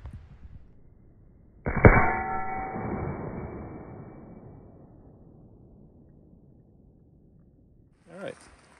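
A Ruger Single Six revolver fires one .22 Magnum round from a 5.5-inch barrel, a single sharp crack with a ringing tail that decays over a couple of seconds, followed later by a brief faint sound.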